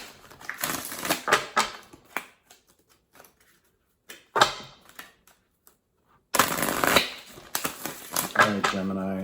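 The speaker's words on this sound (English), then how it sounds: "but I want to get these cards shuffled." Tarot cards are shuffled by hand in bursts of crisp riffling and papery slapping, close and fairly loud, broken by short pauses of near silence.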